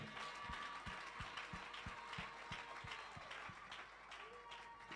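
A church congregation clapping during a prayer service, rhythmic handclaps in a steady beat with a murmur of voices and crowd noise behind, faint and somewhat distant in a large room.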